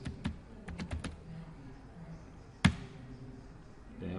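A command is typed on a computer keyboard in a quick cluster of clicks, then a single louder key strike after a pause, close and fairly faint over a quiet room.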